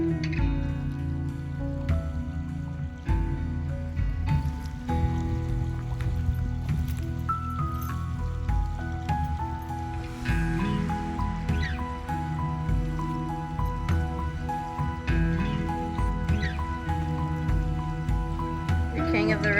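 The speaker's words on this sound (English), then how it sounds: "I love the sound of the water." A river flows over rocks in Fish Hawk Preserve, a continuous wash of water with dripping, gurgling detail, loud and close, with a layer of tonal sound running throughout.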